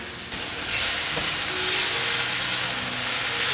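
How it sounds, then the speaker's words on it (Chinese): Celery stir-fried in sesame oil in a pan, a loud steady sizzle and hiss that fills the whole stretch, with faint stirring scrapes underneath. "锅内放入适量的麻油， 把油用平均，放入芹菜炒香"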